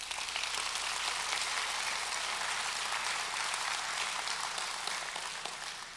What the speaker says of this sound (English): With your applause, would you please recognize Mr. Hamley?